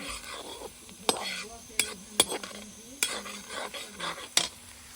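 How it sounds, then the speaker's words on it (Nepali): Onions frying in a pan at an outdoor family picnic in a home courtyard: a steady low sizzle broken by sharp metallic clinks and scrapes of a spoon stirring, close and unaccompanied by talk. "प्याज भुट्दैछु म"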